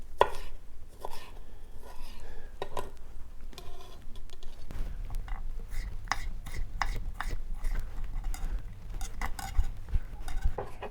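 Knife cutting aubergine into thin julienne strips on a board, a quick series of close, crisp chopping taps in an uneven rhythm, with occasional clinks of utensils.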